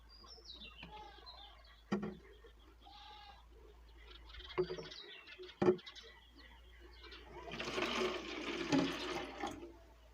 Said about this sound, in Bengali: জলটাকে এখানে কিন্তু ঢেলে দেবে এটার মধ্যে